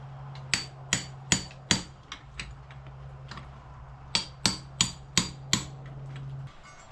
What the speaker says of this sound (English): we'll get them kind of just started by tapping them with a hammer a little bit